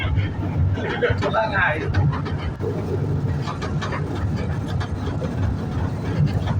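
A steady rumble and clatter from a small park toy train running along, recorded from inside, with voices talking over the continuous ride noise.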